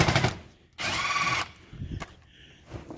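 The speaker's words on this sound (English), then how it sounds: "So you can do this by hand, or if you have a drill, be faster." A power drill spins out bolts on a Honda Civic during an oil change, one sustained whirring burst between quieter clicks and handling noise, close to the car.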